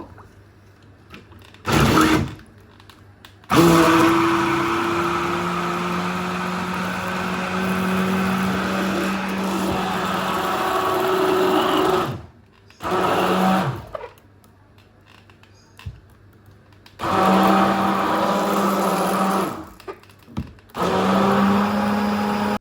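A kitchen blender whirs through mango and milk juice in several loud bursts, its motor pitch shifting as it churns, separated by short quiet pauses, no talking.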